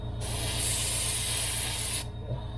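A steady airbrush hiss, spraying acrylic paint, with a rapid, rhythmic sputtering pulse underneath, running continuously before cutting out.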